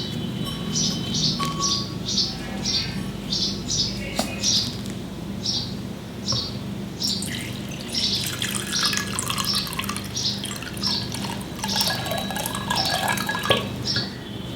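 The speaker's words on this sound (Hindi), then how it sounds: "अब हम इसमें पानी डालेंगे।" Water poured into a container holding a money plant cutting, a light trickling and dripping splash near the microphone, with birds chirping in the background throughout.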